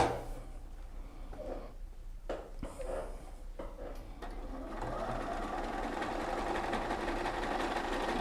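Sewing machine darning fabric, a steady close mechanical whirr that starts after a few brief stops and adjustments and then runs continuously at speed.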